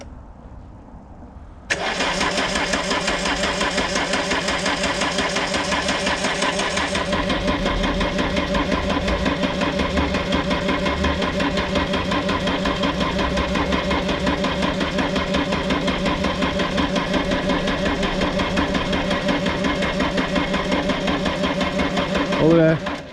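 A barn-find 1980s French turbo hot hatch, original and stored untouched for ten years, is started on the choke. After a quiet moment the engine fires abruptly and settles into a loud, steady idle that continues to the end.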